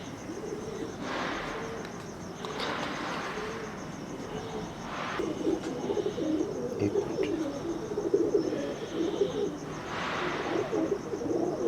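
Soft, low cooing of pigeons repeating through steady background noise, fairly close and continuous with gentle rises and falls.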